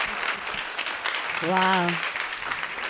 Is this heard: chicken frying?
no